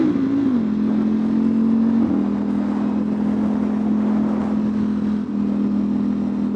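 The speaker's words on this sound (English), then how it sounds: "We can give it a little rev here." A modded 2025 Ducati Panigale V4 idles loud and close with a steady deep engine drone, its pitch shifting slightly with a small blip of the throttle near the start.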